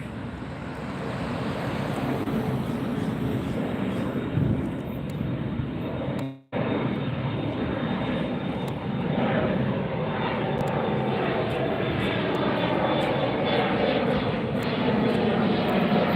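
Delta airliner departing LAX, heard from the nearby beach as a loud, sustained jet engine roar with a broad rushing wash, briefly cut off by a short gap before the roar resumes, with surf-like wind noise underneath.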